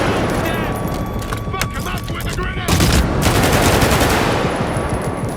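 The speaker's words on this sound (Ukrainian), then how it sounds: "Зверніть увагу на звуки пострілів від зброї в покинутому заводі." Rapid machine-gun fire in S.T.A.L.K.E.R. 2 rattles in dense bursts with heavy booms, echoing through an abandoned factory, loud and continuous throughout.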